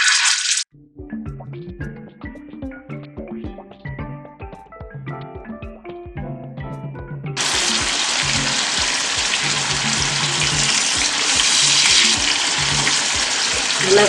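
Fish pieces frying in sesame oil in a hot pan for a Sunday fish fry: soft sporadic crackles and pops at first, then a loud, steady, dense sizzle that holds to the end.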